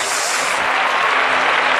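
Congregation applause at a church missions convention, a dense sustained wash of many hands clapping together, loud and even throughout with no pause.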